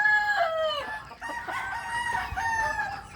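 A rooster crows close by in long, loud, strained calls that overlap with other crowing and clucking from nearby fowl, with no talk over it.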